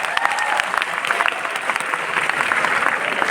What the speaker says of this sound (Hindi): एक बार तालियां बजाई